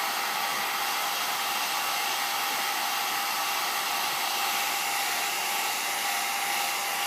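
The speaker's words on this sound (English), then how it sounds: "once he gets comfortable, he'll let me blow dry him" A hair dryer blows continuously on a white Pomeranian puppy after a bath, a loud, steady, unbroken airy roar with a constant whine throughout and no voices.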